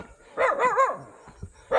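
A guard dog at a hillside mountain retreat barks in a quick burst of a few yips, then gives one more bark after a short pause, close and clear.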